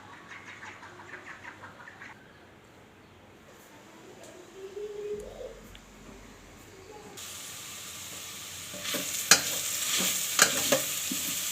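Vegetable bhaji frying in a rice cooker: a steady soft sizzle with stirring scrapes, which grows brighter and hissier partway through, with occasional louder clicks of a spatula.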